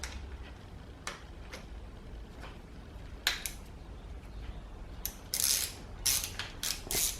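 Throttle housing bolts on a KTM 2-stroke handlebar are tightened with a hand tool, giving faint close creaks and light clicking strokes that grow busier toward the end.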